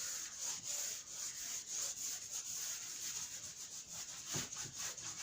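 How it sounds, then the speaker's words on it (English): A board being wiped clean of writing, heard as close, steady rhythmic rubbing strokes with a brief knock near the end. "Okay, so let me rub this."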